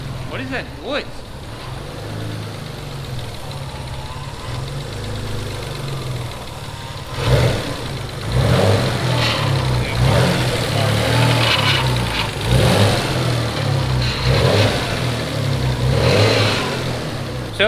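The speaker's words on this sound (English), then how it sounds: "So it looks like that cheap power steering pump I got is junk. It's just whining" A Mitsubishi 3000GT VR4 engine runs with a cheap, faulty power steering pump whining, a loud close idle and rev with a sustained mechanical drone that swells as the throttle rises, under intermittent voices.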